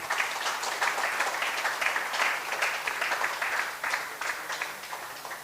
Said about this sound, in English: So again, big round of applause for Ritesh and family.